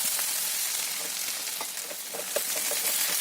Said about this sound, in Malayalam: ചിക്കൻ ഇതുപോലെ നന്നായി ഒന്ന് ഫ്രൈ ആയി വരുന്ന സമയത്ത്